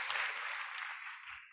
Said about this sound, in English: If we can give them one more round of applause, they make their way off the stage.